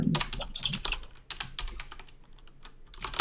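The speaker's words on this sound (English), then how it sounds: "my keyboard is really clicky" Fast typing on a clicky computer keyboard, close and crisp, with rapid irregular key clacks and brief pauses between bursts.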